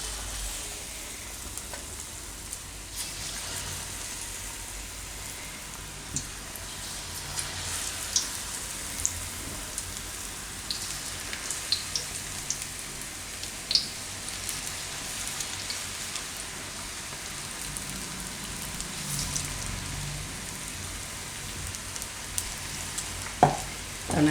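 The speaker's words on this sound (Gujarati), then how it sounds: "અને આપણે તરી લેવું હવે ધીમા ગેસે" Turiya-marcha (ridge gourd and chili) pakoda frying in hot oil over a low flame, a steady bubbling sizzle with crackling pops throughout, close and alone.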